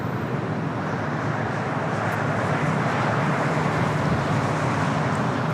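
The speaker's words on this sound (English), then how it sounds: "Here on the south side, we have a United Dreamliner touching down." A United Boeing 787 Dreamliner from Newark touching down at LAX gives a steady, broad jet roar heard from a distance, swelling slightly over several seconds and mixed with outdoor road noise. No voices are heard.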